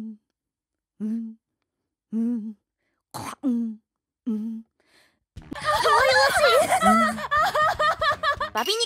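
A voice imitates a VTuber's cough with about six short, evenly spaced coughs in a quiet room, followed by a loud burst of laughter from several people.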